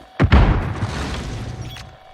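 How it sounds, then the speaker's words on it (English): A stun grenade goes off in a single sharp, loud bang that rolls out into a decaying rumble over about two seconds. "Stun grenade out."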